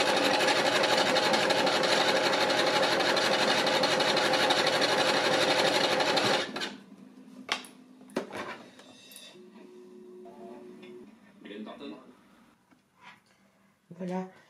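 A sewing machine shirring fabric for a puff-sleeve dress with elastic thread, stitching rows 1 cm apart: a loud, steady, close mechanical whir runs continuously for about six seconds, then stops, leaving quiet handling sounds and a voice speaking.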